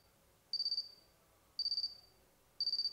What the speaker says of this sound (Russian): Поскольку рядом находится еще один лавинный датчик, мы слышим сигнал.